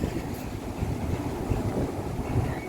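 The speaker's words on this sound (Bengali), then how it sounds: "প্রচন্ড পরিমাণে হাওয়া দিচ্ছে" Steady, rushing wind buffets the microphone on a rooftop with a continuous low roar, moderately loud and unbroken throughout.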